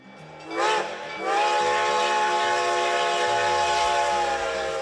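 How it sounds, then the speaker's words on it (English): Reading and Northern Railroad's Pennsylvania-built steam locomotive number 2102 sounds a loud whistle after a brief hiss, then holds a long steady tone over low rumbling. "The Reading and Northern Railroad offered special, sold-out semi-quincentennial excursions aboard their own Pennsylvania-built steam locomotive number 2102"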